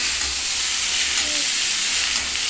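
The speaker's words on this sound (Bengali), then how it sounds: "এবার পটলগুলো ওর মধ্যেও দিয়ে দিচ্ছি।" Pointed gourd (potol) sizzles as it fries in a pan for a poppy-seed potol dish, a steady close hiss with no voices.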